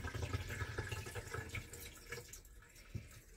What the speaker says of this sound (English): it's filling up the tub